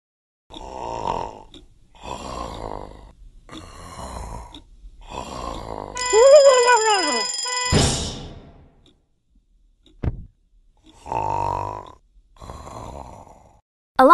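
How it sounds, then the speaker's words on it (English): A bright electronic alarm rings for about two seconds among rhythmic snoring-like grunts and short clicks in the children's alphabet game Endless Alphabet. "An alarm is a loud sound that tells you to do something"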